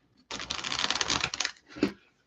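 A quick burst of tarot cards riffling for about a second, followed by a short soft slap as the deck settles, close and fairly quiet.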